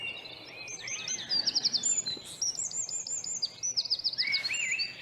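Birds sing in a Corsican forest in the Fango Valley biosphere reserve, with bright, repeated chirping phrases and trills from several birds over quiet background noise.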